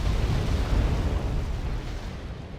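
Deep rumbling explosions as rocket artillery is destroyed in the Wargame AirLand Battle video game, a heavy, continuous low roar that slowly fades.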